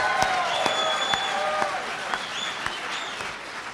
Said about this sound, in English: We all have to applaud that answer.